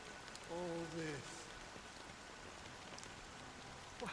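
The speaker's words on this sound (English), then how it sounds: "But it's still raining." Steady rain falls in the Honkai: Star Rail game world, a soft continuous patter with a brief tonal chime early on and faint voices around it.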